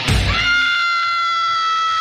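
A person screams into a scream machine, giving one loud, piercing scream that starts with a harsh burst and then holds as a steady, ringing high tone for about two seconds, heard alone.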